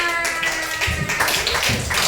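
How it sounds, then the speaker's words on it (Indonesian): Classroom applause from students in a coding lesson, a short burst of scattered clapping that starts about halfway through, with some background murmur. "Dijawab tepuk tangan."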